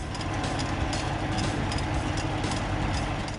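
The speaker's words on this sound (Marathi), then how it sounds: "त्यांचा मुलगा लावणीचं ट्रॅक्टर चालवताना दिसला" A rice-transplanting tractor engine runs in a farm plot, a steady, loud, low diesel rumble that holds without a break and with no voices.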